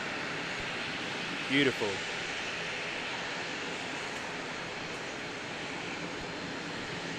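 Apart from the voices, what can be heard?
small Sounds Air passenger plane at the airport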